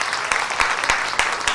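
Audience applause welcoming Mark Morgan to a welcome and orientation program, steady clapping from a crowd with a few sharper claps standing out over a brief stretch.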